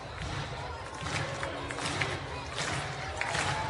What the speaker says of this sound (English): The crowd that's left begins to clap it up